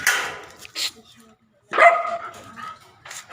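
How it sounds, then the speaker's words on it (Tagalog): A dog barks a few times up close, sharp separate bursts with short pauses between them. "Kakalabas pa si aso."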